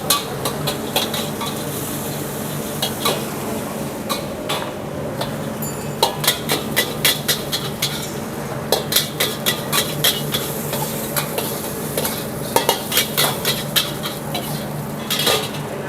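A spatula scrapes and clacks steadily against a pan while nasi goreng fries in a busy restaurant kitchen, with a constant loud sizzle underneath and rhythmic metallic knocks throughout.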